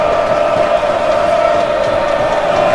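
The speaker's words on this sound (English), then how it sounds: "All right, here comes the crowd." A simulated arena crowd roars and cheers in a basketball video game, Maryland at Iowa with the Iowa home crowd, as a loud, steady, continuous wall of noise with no talk.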